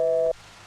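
Steady tone on a phone line while a call fails to connect, a single bright sustained beep lasting about a third of a second before cutting off to quiet line hiss.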